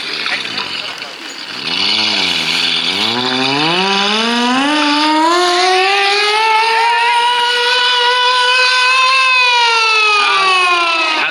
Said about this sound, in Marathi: सायरन काय दर्शवते आहे की या ठिकाणी हवाई हमला होणार आहे